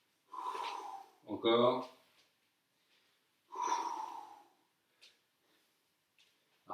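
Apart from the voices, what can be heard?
exhaling breaths during a core exercise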